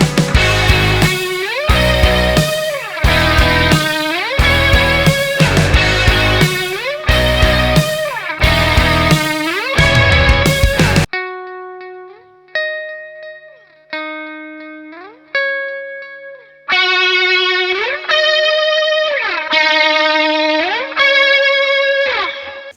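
Single-string lead line on electric guitar through a Warm Audio Pedal76 with delay and reverb: sustained, singing notes and bends ring out loud and clear, with a brief pause and sparser notes before fuller phrases return.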